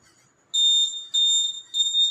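An electronic voting machine sounds a shrill, high-pitched beeping alert after a repeat fingerprint scan, three loud tonal pulses close by with no talk.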